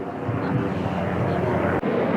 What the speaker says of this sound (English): Oh, look. Helicopter.